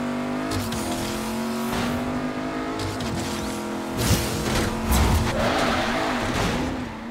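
Car racing in the video game Agents of Mayhem, a steady, loud engine drone that rises and falls in pitch with revving, with bursts of tire squeal and skidding near the end.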